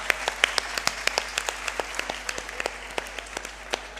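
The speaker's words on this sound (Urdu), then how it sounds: "ان سب کے لیے تمام تر خواتین زوردار تالیاں بجائیں" Women in a conference hall clap in a sparse, uneven patter of individual sharp claps spread across the room, moderately quiet with a steady, loose rhythm.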